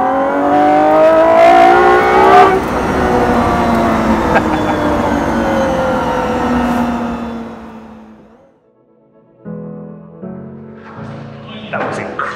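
A Gordon Murray T.50 supercar approaches with a loud, high-pitched engine note that rises and sweeps through gear changes, then fades to quiet before lighter mechanical sounds and brief voices return.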